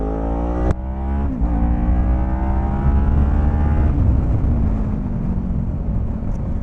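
A Kawasaki Ninja 400 KRT motorcycle accelerates hard from close by, its engine note climbing steeply in pitch through the gears with a sharp upshift and loud, continuous roar.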